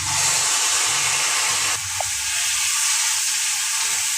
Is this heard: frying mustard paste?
yes